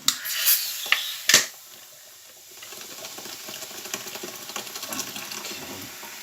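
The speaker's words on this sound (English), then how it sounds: "2 cans into a saucepan, and let's boil them up" Two cans of Pepsi Cola are poured into a saucepan: a few sharp can clicks and splashes open the pour, then a steady close fizzing trickle of liquid filling the pan, alone without talk.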